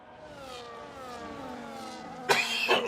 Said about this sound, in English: I do apologise for the coughing, folks.